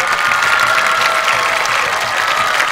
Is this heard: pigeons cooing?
no